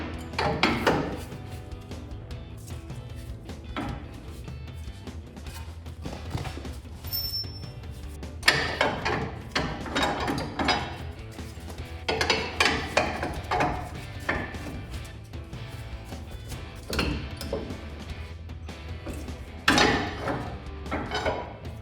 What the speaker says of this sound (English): I'm gonna use my pry bar again, try to pull down this lower A-arm